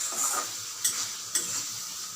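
Banana flower and boiled potatoes stirred and frying in hot oil, a steady sizzle with a few sharp spoon scrapes against the pan, close and alone.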